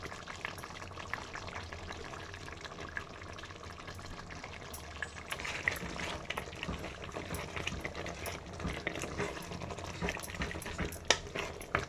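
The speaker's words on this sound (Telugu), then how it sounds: "ఇప్పుడైతే బాగా ఉడుకుతుంది." Andhra-style mutton curry with tomatoes, mint and coriander bubbling in a covered pot, a continuous dense simmer of small pops and bursts, steady and close, with no talking.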